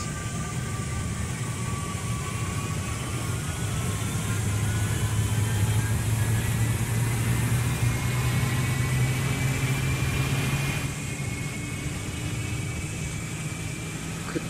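A Boeing 777-300ER engine spools up in the flight game Project Flight, a steady jet whine and low rumble with rising tones that swell in the middle and then ease, continuous and without talk.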